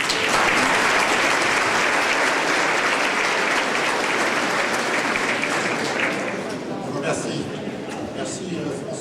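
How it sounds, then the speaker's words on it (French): A crowd at a New Year's address in a village festival hall gives loud, sustained applause that thins slightly toward the end, with faint voices underneath. "Vous pouvez l'applaudir."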